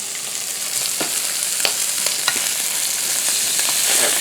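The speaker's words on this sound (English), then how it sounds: "I'm going to fry this for 3 or 4 minutes on this side" Venison tenderloin fries in a pan with a steady, close sizzle, scattered with sharp pops and crackles throughout and no talking.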